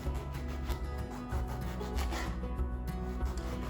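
Knife chopping vegetables into half-inch pieces for oven roasting, a steady run of close rubbing and scraping strokes on a board with no pauses and no talk.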